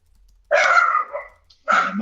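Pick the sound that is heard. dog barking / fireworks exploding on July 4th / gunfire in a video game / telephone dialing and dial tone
dog barking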